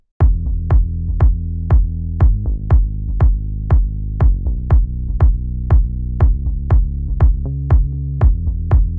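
A punchy melodic house tom and deep bass pulse together in a steady, looping four-on-the-floor rhythm, each hit ducking and swelling back under sidechain compression, loud and dry with no voices.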